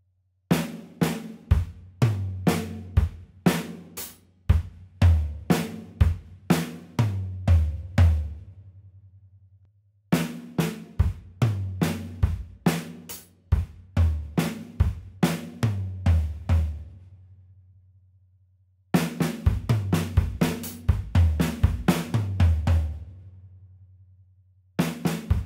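A linear drum fill played slowly on a drum kit: three separate passes of single hi-hat, snare, kick and floor tom strokes, with no two hitting together, each pass ringing out before the next starts.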